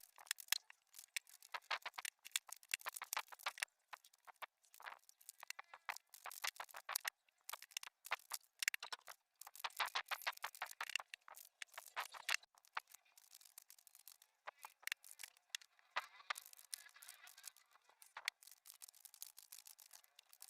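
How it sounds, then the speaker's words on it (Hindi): Tarot cards being shuffled by hand: a steady run of quick, light papery flicks and clicks, fairly close and fairly soft, with no talking. "कार्ड्स शफल कर लेते हैं"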